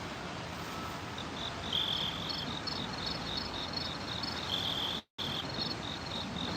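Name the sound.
crickets chirping sound effect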